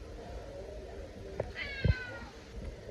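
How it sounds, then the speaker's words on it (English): A cat meows indoors, a short, moderately clear call rising over steady background hum, with a couple of faint thumps around it. "There's a cat right there."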